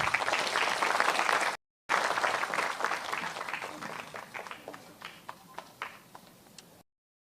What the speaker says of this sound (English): Let's give a big round of applause for all our speakers.